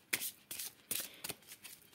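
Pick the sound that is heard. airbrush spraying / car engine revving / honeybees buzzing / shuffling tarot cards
shuffling tarot cards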